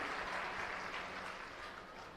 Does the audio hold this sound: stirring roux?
no